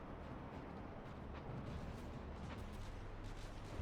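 A monitor warship in a naval video game battle fires its guns, heavy booming rumbles rolling steadily under a continuous low roar of distant cannon fire, with no talking.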